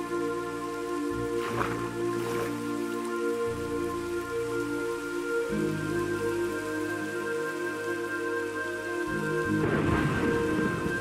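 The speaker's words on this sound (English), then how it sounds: "Oh, it's a thunderstorm." Steady rain from a thunderstorm in the video game Minecraft patters continuously throughout, with low rumbling thunder swelling near the start and again toward the end over sustained background music tones.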